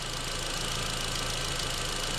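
A Volkswagen Jetta with misfires and a lean code idles slightly rough under the hood, a steady close engine drone with a faint uneven pulse running throughout and no talking.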